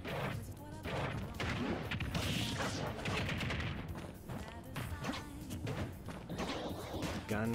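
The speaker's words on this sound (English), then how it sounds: "just keep on shooting guns and it destroys Gordo" Rapid video game gunfire during a Kirby fight against Gordo, a dense, continuous stream of shots and impacts mixed with game effects, loud and steady throughout.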